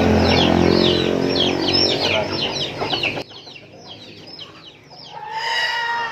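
Asil and native chickens clucking and squawking in a busy, close chorus, with a rooster-like call rising near the end; no talking.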